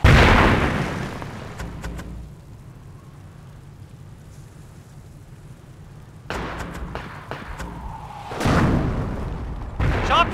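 Mortar barrage explodes in the strategy game Company of Heroes, a heavy boom at the start, a long quiet stretch, then a cluster of sharp bursts and another loud blast near the end.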